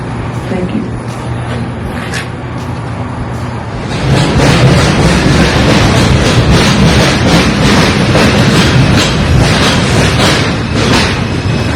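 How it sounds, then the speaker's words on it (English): New York City subway 2 train bound for Manhattan, a rumbling rail roar that swells noticeably partway through and then holds steady and loud, with rhythmic clatter over the rails. "This is a Manhattan-bound 2 train."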